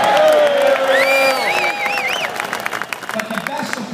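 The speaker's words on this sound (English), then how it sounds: "a nice round of applause," Crowd applause and cheering at an Albany gun protest rally, a dense clapping wash that starts under an amplified voice, then carries on steadily with scattered whoops.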